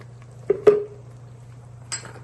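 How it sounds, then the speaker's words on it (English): Pasta sauce is stirred in a pan, with a few sparse metallic clinks of a utensil against the pan over a low steady hum. No one speaks. "We have to keep on stirring it."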